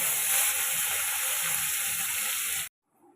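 Fish frying in hot oil, giving a loud, steady, close hiss of sizzling that runs unbroken for a few seconds before cutting off abruptly into near silence.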